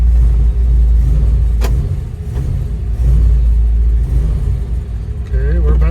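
A Dodge Dart's engine idles after a fuel line fix, a loud, low rumbling drone that dips briefly and recovers, running steadily throughout at close range.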